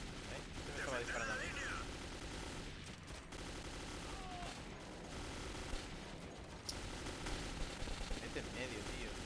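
Gunfire in the video game Metro 2033, with rapid rattling bursts and single shots over a busy, noisy mix, heard faintly and partly under muffled voices.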